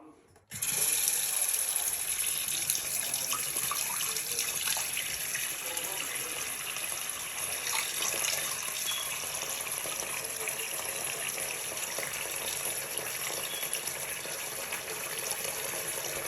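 Water runs and gurgles steadily in a clogged kitchen sink being tested with a bargain drain cleaner, a continuous close hiss and trickle that holds for many seconds without speech.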